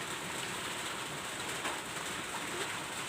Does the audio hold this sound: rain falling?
yes